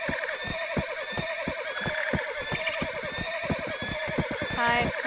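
Horse in the online role-playing game Black Desert Online, rhythmic clip-clopping hooves throughout with neighing and whinnying, ending in a rising whinny, all close and clear with a voice talking alongside.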